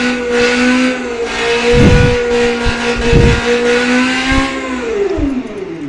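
A V8 car engine in the Automation video game revs repeatedly, its tone climbing and falling through several throttle blips, loud and close with no talk.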